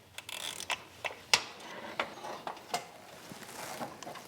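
Quiet clicks and ratcheting taps from a socket wrench loosening timing cover bolts on a Mitsubishi Lancer CE 4G93 engine, a series of sharp irregular mechanical ticks close by with no talk.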